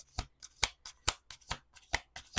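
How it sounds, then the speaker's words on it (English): A deck of tarot cards being shuffled in sharp riffling bursts, about eight quick shuffles in a loose rhythm, close and crisp with no speech. "Two more shuffles."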